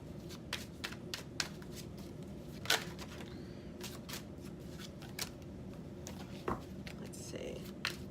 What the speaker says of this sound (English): Let me go ahead and shuffle this.